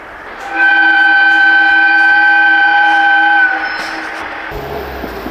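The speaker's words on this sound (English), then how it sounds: "The Tadami line is coming." A small Tadami line train passing through the Japanese countryside in winter sounds a loud, sustained multi-tone horn for about three seconds, then fades into a lingering rumble.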